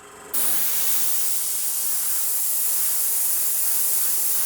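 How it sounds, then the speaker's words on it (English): A cheap £10 airbrush spraying paint onto plastic, with a sudden onset into a steady, close, loud airy hiss that holds unbroken to the end. "That's about as fine a line as I can get with this airbrush"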